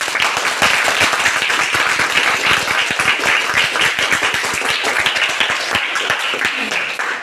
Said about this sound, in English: Please give a round of applause and thanks.